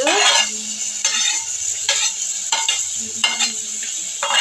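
Onions, tomato, ginger and carrot sizzle steadily in a pan while a utensil scrapes and stirs in repeated strokes about every second, close and fairly loud.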